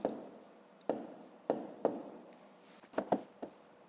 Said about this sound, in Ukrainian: записуємо тоді спочатку 350